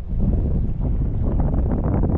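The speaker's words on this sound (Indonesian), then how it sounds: "Anginnya di sini lumayan kencang juga" Strong wind buffets the microphone outdoors at a traditional fishing competition in Batam, a steady loud rumble with gusty fluctuations throughout and no voices.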